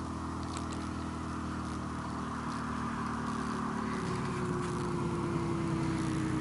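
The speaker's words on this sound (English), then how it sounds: "So if you hear cars and stuff," Distant traffic near a crossroad on the high west side of Albuquerque at sunrise makes a faint, steady low drone of passing cars with no speech.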